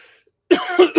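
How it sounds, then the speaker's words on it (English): A person coughs sharply several times in quick succession, close and loud, after a brief quiet pause. "As I cough my lungs out"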